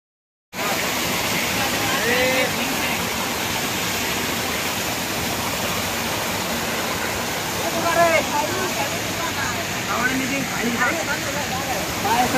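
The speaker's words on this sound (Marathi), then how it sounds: "बरोबर ओढ्याच्या खाली एक छोटासा धबधबा दिसेल." A small waterfall below a stream at Gupt Bhimashankar sends up a steady, dense roar of rushing water that starts after a brief silence and holds for the rest of the clip.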